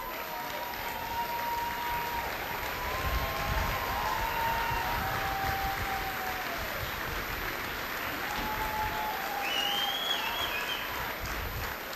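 Steady, sustained applause from a large audience of families and guests at a college commencement, a dense wash of clapping that holds evenly throughout with faint crowd murmur beneath.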